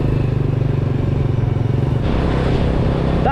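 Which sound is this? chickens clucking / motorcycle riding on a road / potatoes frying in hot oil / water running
motorcycle riding on a road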